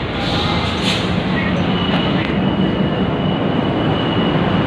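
A train rumbles past close by, a loud continuous roar of wheels on rails with faint high squeals.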